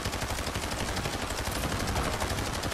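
Video game gunfire in a Portuguese-language match, a dense, continuous burst of rapid shots hammering evenly at close range for the whole stretch.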